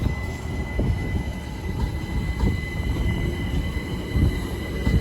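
A London Overground train passes at Richmond station, a steady close rumble of rolling wagons with occasional wheel clatter and faint squeals running throughout.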